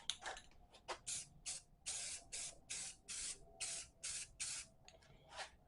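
Short bursts from a spray can coat a Ludwig drum pedal part in thin layers, about a dozen quiet hissing puffs in a steady rhythm with brief pauses between them, close by and with no talking.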